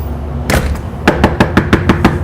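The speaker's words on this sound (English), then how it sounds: "Knock on the door." Knuckles rap on a household door during dog training: a short double knock, then a steady series of six crisp, evenly spaced knocks, close and clear with no talking.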